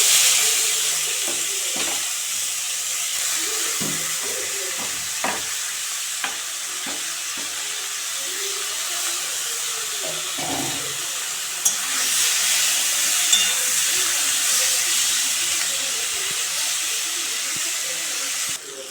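Onions and then marinated mourola fish, coated with salt, turmeric and mustard oil, hit hot oil in a pan, giving a loud, steady, close sizzle and crackle throughout, with faint clinks of utensils.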